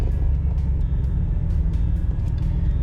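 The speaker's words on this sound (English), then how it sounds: "I'm in traffic again." Steady low engine rumble of a car crawling through slow traffic on the way to Largo, a continuous near drone with faint passing vehicle noises and no talking.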